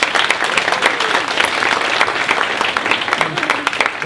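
An audience at a Seattle launch event applauds loudly and densely, a continuous close roar of many hands clapping for the full stretch.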